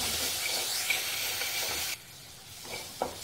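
Garam masala and amchur powder are stirred into a sizzling yam curry in a pan, a steady frying hiss with scraping spoon strokes, dropping quieter midway before a few more stirs.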